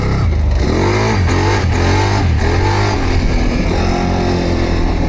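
A 1000cc motorcycle engine revs hard in repeated surges for a wheelie, rising and falling pitch close by, loud and continuous without speech.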